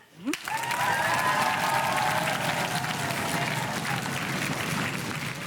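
A crowd bursts into sustained applause, loud and steady clapping that carries on for several seconds with a faint cheer at the start.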